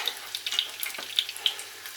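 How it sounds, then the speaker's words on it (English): Corned beef hash cakes frying in a pan give a close, gentle sizzle with small crackles and pops scattered across a couple of seconds, with no voices. "And then we just fry them now"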